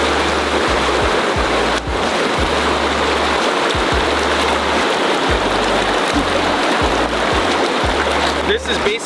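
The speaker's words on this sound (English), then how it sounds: "You're just gonna dunk it under the water" A gravity water bag is dunked and filled in a glacier stream, set in a steady loud rush of flowing water that runs the whole time, with low thumps from handling.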